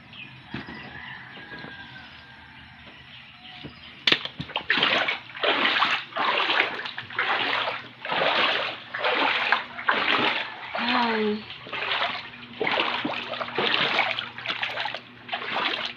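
Repeated wading splashes through floodwater inside a house, rhythmic sloshing steps after a sharp knock, with a voice speaking over them.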